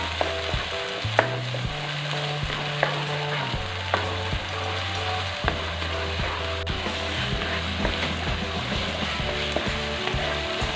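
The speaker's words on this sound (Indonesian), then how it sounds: "sekarang kita tumis bumbunya sampai matang" Spice paste with lemongrass stalks and kaffir lime leaves sautés in a pan for a Padang-style grilled chicken dish, a steady sizzle broken by stirring scrapes and clunks against a low ongoing hum, close and fairly loud, with no talking.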